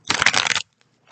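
A quick riffle of tarot cards being shuffled, a dense crisp flutter lasting about half a second, then near silence.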